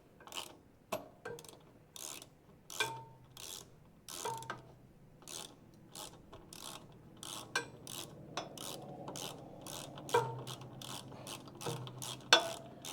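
Ratchet clicks in quick repeated bursts as bolts are snugged down against a rubber bushing in a garage, each run of sharp pawl ticks close and distinct, separated by short pauses and faint handling noises.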